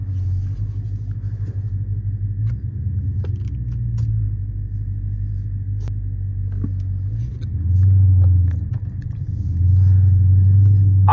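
Deep idling rumble of a tuned Scat Pack car engine with uneven exhaust burbles, swelling louder twice as the engine is revved briefly.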